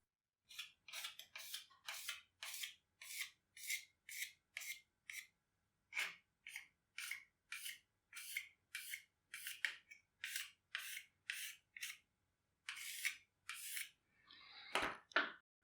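One whetstone rubbed against another to level its surface, a series of rhythmic gritty rasping strokes, each about half a second, repeating close and clear over near silence, ending with a longer scrape.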